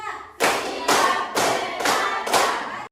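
Five loud, evenly spaced group claps from a class of children playing a counting game in a classroom, each a sharp unified burst, close up with no talk over them.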